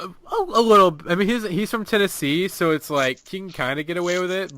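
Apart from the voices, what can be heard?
No everyday noise stands out behind the speech.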